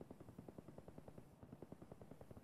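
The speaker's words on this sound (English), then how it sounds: "Those are very faint suppressed shots." Suppressed gunfire in the shooter game Escape From Tarkov, a long rapid series of muffled, evenly spaced pops, very faint and distant, with no voices over it.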